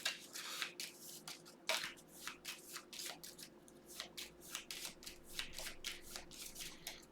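Rapid riffling flutters of a deck of playing cards being shuffled during a tabletop game, repeated crisp bursts close to the listener over a quiet hum, with no voices.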